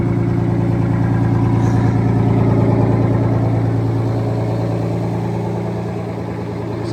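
A Detroit Diesel 6-71 two-stroke engine in a 1980 GMC Brigadier truck runs steadily after a cold start, a loud, close, continuous low rumbling drone with a pulsing beat that eases slightly toward the end.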